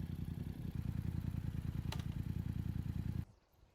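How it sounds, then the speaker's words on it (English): A motorcycle engine runs steadily with a low, loud idle rumble, then cuts off abruptly near the end, leaving quiet. "Start up your engine, pull your clutch in and click into first gear"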